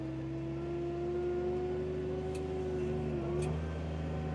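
A tractor with its PTO engaged at 540 for fertiliser spreading on a grazing field drones steadily, its tone dipping briefly near the end.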